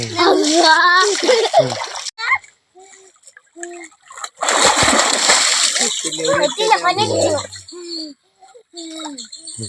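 Children shout and chatter while loud splashes burst as they jump and thrash in a small homemade water-tank pool, with quieter gaps between the plunges.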